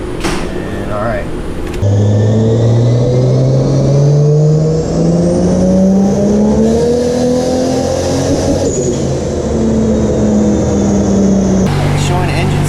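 A turbocharged 2JZ engine in a Nissan 240SX revs hard on a dyno at full boost. Its loud, close whine climbs steadily toward a 5,500 rpm limiter, then settles and drops off near the end.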